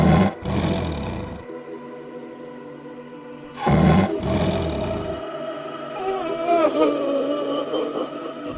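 A big cat's deep, loud roar comes in two long surges separated by a pause. A lower, wavering moan trails off after the second surge.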